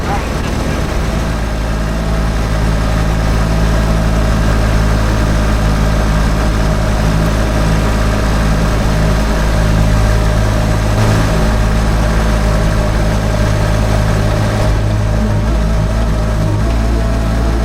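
A mini excavator engine runs steadily at a constant idle-like speed, a loud, even low-pitched drone with a faint whine that holds unchanged for the whole stretch.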